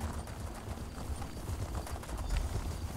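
Horse hooves clip-clop steadily while riding in The Elder Scrolls Online, a continuous trotting rhythm over low rumbling game ambience, with no voices.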